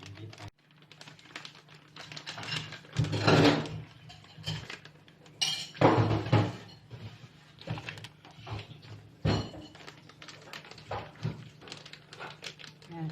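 A spoon clinks and scrapes in a pot of corn being fried, with several distinct metallic knocks and rattles spread through the clip, close and moderately loud, while people talk alongside.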